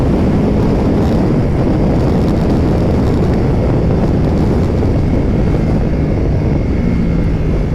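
A 2024 Ducati Multistrada V4 RS at full throttle on a top speed run, windshield raised, its engine roar buried under a constant loud rush of wind buffeting the microphone from start to finish.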